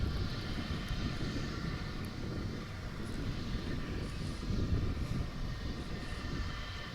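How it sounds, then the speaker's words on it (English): An Embraer 145 regional jet at DFW airport on a clear day produces a distant, steady low jet rumble and whine, faint and continuous over outdoor background noise. "And that'll also be an Embraer 145."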